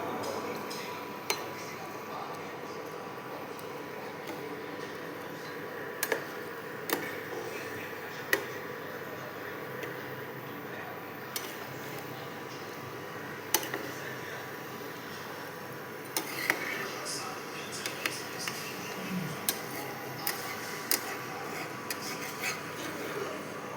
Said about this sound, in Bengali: আমি চিকেনটা দিয়ে দিয়েছি, এবার আমি নাড়তে থাকবো।